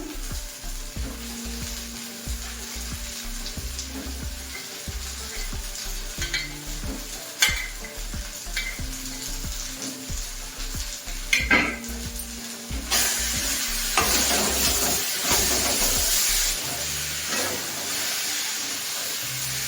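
Fried spices sizzling in oil for a mourala fish curry, stirred with repeated scraping and clanking of a spatula against the pan, the sizzle swelling louder toward the end.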